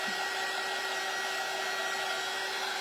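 A hair dryer blows steadily on craft thread for a fishing-themed door hanger, a continuous close whirring hiss with a constant hum and no voices.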